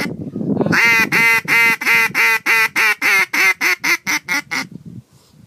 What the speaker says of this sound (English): on how to use a duck call